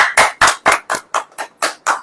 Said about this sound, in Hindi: ताली बजाइए भैया